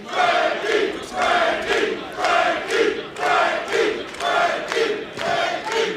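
A wrestling crowd in the Impact Zone arena roars in steady rhythmic swells, about one surge every second, like a loud unified chant filling the hall with no clear voice above it.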